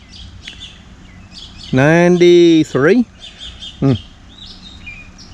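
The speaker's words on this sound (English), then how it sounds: "The birds are happy." Birds chirp and call in a home garden in the mid-morning, a loud burst of rapid tweeting notes up close followed by a brief second call, with someone speaking briefly.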